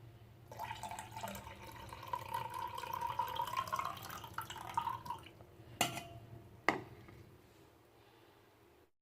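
Tamarind is washed under a running kitchen tap, water streaming and splashing steadily for several seconds, then a couple of sharp knocks as the flow stops.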